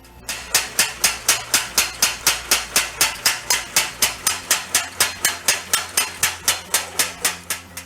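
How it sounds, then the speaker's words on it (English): A homemade power hammer pounds metal in a fast, steady rhythm of about three sharp blows per second, loud and close, with no talking. "Power hammer is one of the important valuable tool for industrial work"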